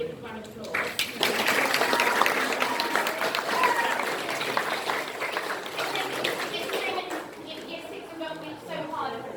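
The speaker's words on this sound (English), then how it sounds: "with a big round of applause" Audience applause at a school graduation ceremony, a full round of clapping that swells quickly and then slowly tapers off, with voices faintly mixed in.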